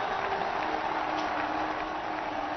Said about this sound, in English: and the crowd is delighted.